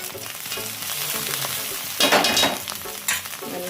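Misal pav masala spices roasting in a pan, sizzling and crackling steadily up close, with louder bursts of spitting and sharp stirring scrapes partway through.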